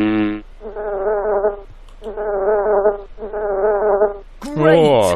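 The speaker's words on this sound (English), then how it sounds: "That bee was making that sound." Cartoon bee buzzing in the Dora's First Adventure game: three steady, harmonic buzzes of about a second each with brief gaps, loud and close, followed by a short different sound at the end.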